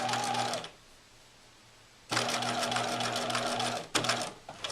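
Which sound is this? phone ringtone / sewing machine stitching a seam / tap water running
sewing machine stitching a seam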